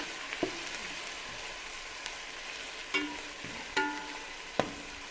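Chopped tomatoes frying in a pan for a potato, pea and moong mixed vegetable sabji, a low steady sizzle broken by a few distinct stirring clatters and scrapes.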